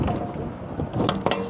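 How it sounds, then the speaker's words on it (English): Strong wind gusts outdoors beside a truck buffet the microphone in a loud, rumbling roar that swells and dips, with sharper bursts near the end and no voices. "That's how windy it is out here."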